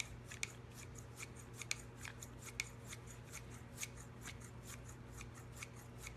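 Professional kitchen shears snipping fresh herbs, a quick regular series of faint crisp snips repeating steadily at close range over low background hum.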